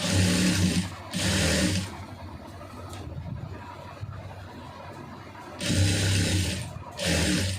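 A sewing machine stitches around a blouse neck in two loud, close bursts of rapid whirring with a quieter pause of handling noise between them.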